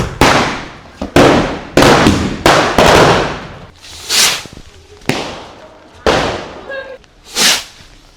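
Loud Diwali firecrackers bang in quick succession, sharp cracks with echoing tails, followed by a couple of whooshing bursts.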